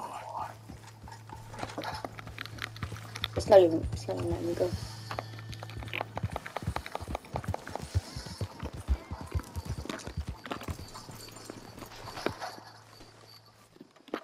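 A horse's hooves in the Red Dead Redemption 2 video game clop in a fast, steady rhythm throughout, mixed under frequent excited talking from a player.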